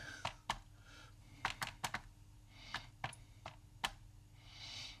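Keys tapped on a Cambridge Z88 portable computer with a sensitive keyboard and spacebar, a dozen or so distinct close clicks at uneven intervals over a quiet background.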